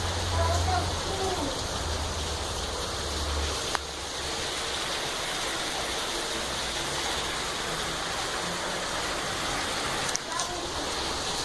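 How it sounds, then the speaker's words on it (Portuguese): Heavy rain pours down steadily, a dense continuous hiss that stays loud and even throughout, with no voices. "Uma chuva bem fortinha, né?"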